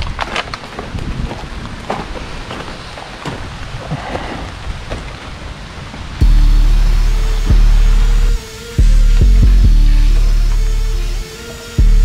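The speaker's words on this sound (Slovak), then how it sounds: "akurát začalo mi pršať a blíži sa fajná burka, už hrmí" Rain falling during an approaching thunderstorm at an abandoned incinerator plant, a steady hiss of rain with crackles and knocks, then a heavy, loud, distorted rumble of rain or thunder close to the microphone.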